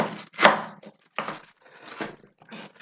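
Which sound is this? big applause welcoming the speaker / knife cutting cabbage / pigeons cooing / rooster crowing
knife cutting cabbage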